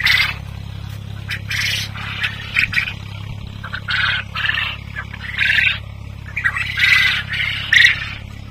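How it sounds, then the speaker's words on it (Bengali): Quail at a farm-style bird enclosure give repeated sharp, high squawking calls in short bursts, near and fairly loud over a steady low hum. "আর এই পাখিগুলোর নাম হচ্ছে কোয়েল পাখি।"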